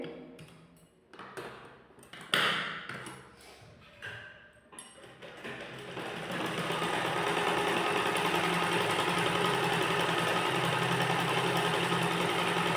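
Sewing machine stitching a ladies' trouser, first a few short start-stop bursts with handling thumps, then a steady continuous whirring run for the last several seconds.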